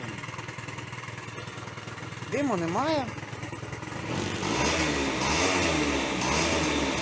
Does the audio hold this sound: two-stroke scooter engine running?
yes